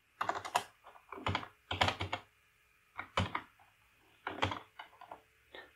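Someone types on a computer keyboard in short, close, crisp bursts of several keystrokes each, with brief quiet gaps between the bursts.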